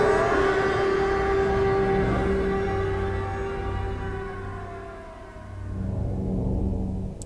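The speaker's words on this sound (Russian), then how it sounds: "Сирена сумасшествия. Она просто сводит меня с ума." A wailing siren in the video game Silent Hill: Alchemilla sounds alone, loud and sustained, its tone sliding slowly downward and fading before rising again near the end.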